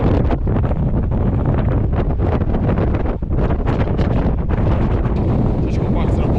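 Strong wind at a Peak District wild camp buffets the microphone in continuous loud gusts, a roaring rumble with no talk over it.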